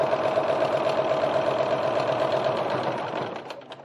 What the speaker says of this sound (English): Pivot, take one stitch, and then stitch down again.